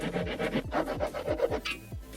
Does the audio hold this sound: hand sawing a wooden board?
yes